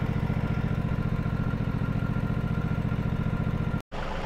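A hydroseeder's engine chugs steadily while mixing a load of seed slurry, a constant mid-pitched mechanical drone that cuts off abruptly near the end.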